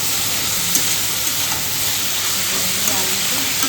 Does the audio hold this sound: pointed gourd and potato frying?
yes